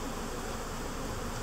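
Honey bees buzz around an Apimaye hive during installation of bee packages, a faint, steady drone of many insects close by with no speech.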